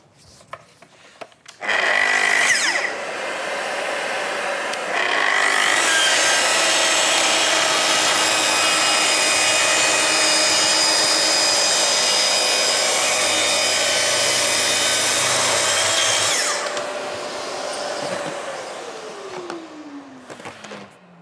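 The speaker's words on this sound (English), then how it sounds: "So, as a single unit, TS55R will cut solid surface with a minimum of dust." Festool TS55R track saw cutting solid surface: a loud, steady whine of the blade biting through the sheet for about fifteen seconds, with motor spin-up at the start and a falling wind-down at the end, no talking.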